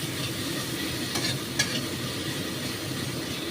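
Bata fish curry gravy with black cumin sizzles on high flame while a spoon stirs it in the pan, a steady frying hiss with a couple of brief scrapes.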